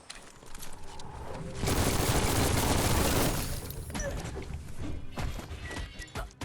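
A burst of heavy gunfire fills the Biomutant video game, a dense fusillade of shots running for a couple of seconds, with scattered impacts and softer shots before and after.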